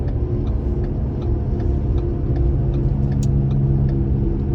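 A car running on a lift with several failing wheel hubs gives off a loud, steady low rumble and drone with faint rhythmic ticking on top, close and continuous, no voices.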